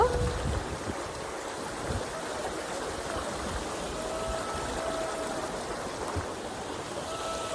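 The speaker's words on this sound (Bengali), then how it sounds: "নদী কল কল করে বয়ে চলেছে" Steady broadband rush of flowing water, like a stream running over rocks, continuous and moderately close with no pauses.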